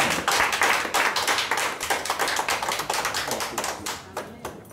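A wedding congregation applauds, with dense, steady clapping from many hands close by that thins toward the end.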